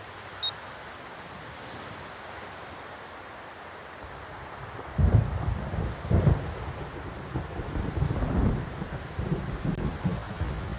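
Thunder rolls over a beach in the video game Xenosaga on PS2: after a quiet windy start, deep rumbling booms build and swell repeatedly, loud and low under steady surf-like wash.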